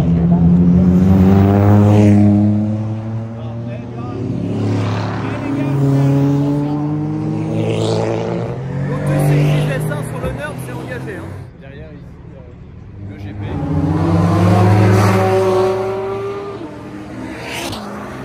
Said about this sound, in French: Et là si on va sur le bord de la piste, on peut voir les voitures qui passent, c'est sympa.